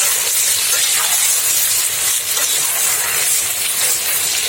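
Meat sizzling loudly in a hot pan for shpundra, an old Ukrainian beet and pork dish, a steady close hiss running throughout with no talk.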